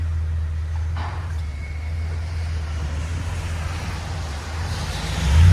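A 2017 Ford F250 Super Duty with a 6.2L V8 and a Borla Sportsman muffler idles with a steady, deep exhaust rumble that swells louder in the last moment.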